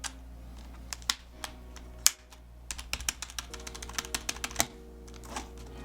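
Typing on a Chromebook keyboard with a damaged key after being dropped from a two-story building: quiet, close clicks, a few isolated taps and then a quicker irregular run of keystrokes over a low hum.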